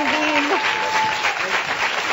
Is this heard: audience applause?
yes